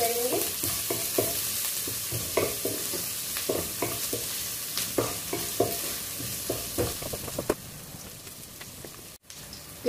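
Onions brown in a pan over a lowered flame, with a steady frying sizzle and frequent scraping stirs close by, without any talking.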